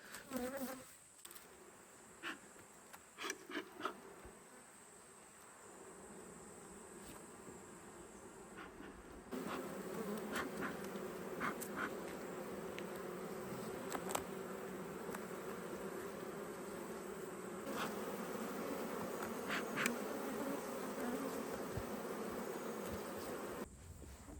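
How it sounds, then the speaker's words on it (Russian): Honey bees buzz steadily in a dense, droning swarm close by around a hive in the taiga, with a few sharper passes near the start and the hum growing fuller halfway through. "и пчелы атакуют"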